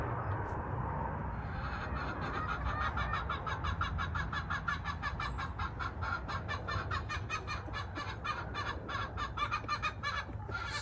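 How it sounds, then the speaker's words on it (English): A hen gives her post-laying cackle in a long, rapid run of repeated clucks, fairly faint and steady against a low background hum, with no voices. "sounds like there's a hen in there that just finished laying."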